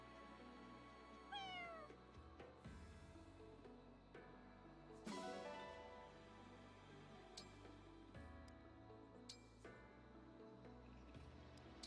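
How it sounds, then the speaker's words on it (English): A cat meows inside the Fire Emblem Engage video game, with a short rising mew rising above a continuous backdrop of game music and sound effects. "Oh, we got a cat."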